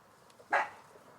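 A dog gives a single short bark indoors at moderate distance, against a quiet room background with no talking.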